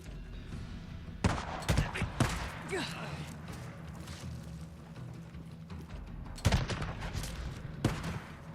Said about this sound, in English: Open fire! Gotta reload.